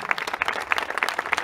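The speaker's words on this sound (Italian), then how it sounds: "facciamo salire su un applauso in cielo ai due angeli che ci guardano" People gathered at a swimming pool dedication applaud, individual claps coming through clearly in a lively, uneven patter close by across the short burst.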